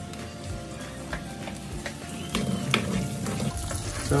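Onions sautéing in melted butter and oil as the base of a carbonara sauce, a steady close sizzle and crackle with occasional stirring scrapes, growing slightly louder toward the end.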